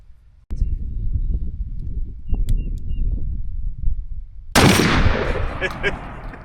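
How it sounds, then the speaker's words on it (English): A .410 shotgun fires a Rocky Ridge TSS 9s shell outdoors during pattern testing: one loud, sharp report with a long rumbling tail, then a second, brighter blast a few seconds later. "first one out of Jay's gun is the Rocky Ridge 9s"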